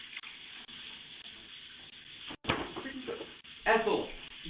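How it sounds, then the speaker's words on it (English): A tap runs into a sink in a house, a steady hiss of flowing water with a sharp knock partway through and voices talking over it. "she could turn on the water"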